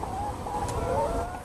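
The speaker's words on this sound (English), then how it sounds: "The sound of hens is cluck." Hens cluck in soft, low, broken bursts, faint and somewhat distant, over a steady background hiss.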